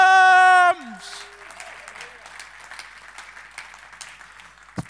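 Scattered, thin audience applause rises after a held musical tone cuts off, a sparse patter of claps continuing at low level with one sharper clap near the end.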